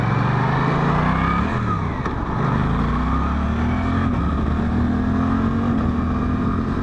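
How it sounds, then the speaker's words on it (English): 2024 Suzuki GSX-8S motorcycle accelerating on a mountain road, a steady loud engine drone climbing in pitch through gear changes, mixed with constant wind rush. "I love how quickly this bike gets up to speed"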